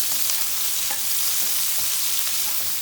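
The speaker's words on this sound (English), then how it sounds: "We will saute the onion first before putting the garlic in." Chopped onion sautéing in a hot pan, giving a steady broadband sizzle with faint stirring scrapes throughout, close and fairly loud with no talking.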